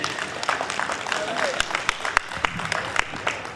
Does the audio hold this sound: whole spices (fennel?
no